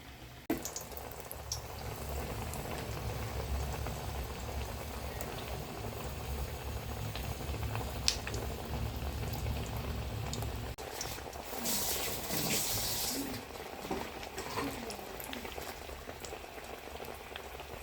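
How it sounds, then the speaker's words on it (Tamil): Spinach vada batter dropped into hot oil fries with a steady, dense bubbling sizzle throughout, close and continuous, with a brighter burst of crackling near the end; no talking. "போட்டு எண்ணெயில் போட்டுற வேண்டியது தான்."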